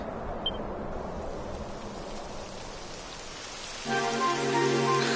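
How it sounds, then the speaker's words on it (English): Rain falling in the video game Dragon Quest XI, a steady soft hiss of drops that swells louder near the end as a tonal musical layer joins it. "It would have to go and start raining"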